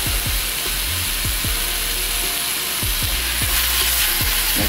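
A burger sizzling over a campfire, a loud continuous hiss with a steady run of low rhythmic clicks or pops underneath, close and unbroken.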